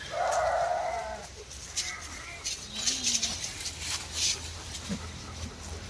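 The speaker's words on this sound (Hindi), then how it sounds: "इतनी भेड़े कहाँ से आ गई है" Sheep from a large flock of several hundred crowd into farm fields, with scattered bleats rising over a steady background murmur and faint talk.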